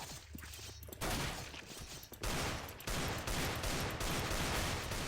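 Rapid bursts of automatic gunfire from a prison-break round of the CS:GO JailBreak mode, loud and dense, with short pauses between the volleys.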